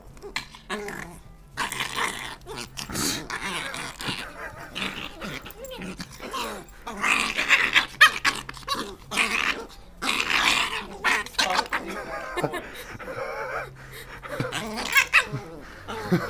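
A dog growls and grunts with low, rumbling, throaty noises, mixed with whimpers and short barks. The sounds come in irregular bursts, up close, while a person talks intermittently.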